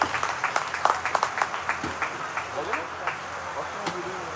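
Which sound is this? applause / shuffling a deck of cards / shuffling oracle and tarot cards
applause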